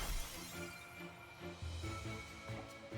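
A shield shatters in the video game Fae Tactics, a crisp glassy breaking burst at the start set over looping game music that carries on behind it.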